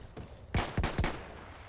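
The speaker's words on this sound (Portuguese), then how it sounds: "tô levando tiro nas costas" Gunfire in the video game Battlefield 1: three sharp, loud shots in quick succession over a low background rumble.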